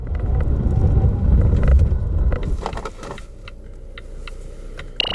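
A 2019 Volvo S60 T5 sedan under braking: heavy road and wind rumble from inside the car for about two seconds, then fading to a quieter, steady hum as the car slows, with a small click near the end.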